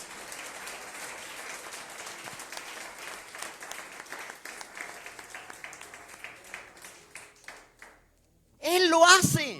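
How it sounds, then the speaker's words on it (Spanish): A church congregation claps during a Spanish-language sermon, a dense ripple of applause that thins into scattered claps and stops, after which a preacher's amplified voice comes in. "dale ese aplauso al Rey"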